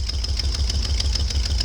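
Ford F-250 pickup engine idles after a cold start in snow, a close, steady, rapid ticking rumble with a faint rhythmic clatter, no voices.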